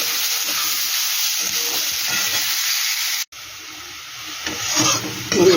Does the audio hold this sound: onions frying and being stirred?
yes